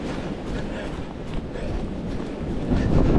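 A strong outdoor wind gust of about 60 mph on an extremely windy day in a large lot, a loud continuous rumbling roar of wind buffeting the microphone that builds slightly toward the end.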